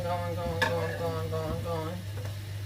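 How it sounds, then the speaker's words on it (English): Food sizzling steadily in a frying pan for a weeknight dinner, with a spoon scraping and stirring at intervals and a steady electrical hum underneath; close and fairly quiet. "Stir it around and let that cook in there too."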